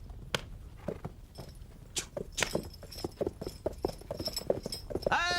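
Horse hooves clip-clop at a steady walking rhythm on hard ground in a medieval Central Asian setting, close and distinct, with faint jangling and a brief higher sound near the end.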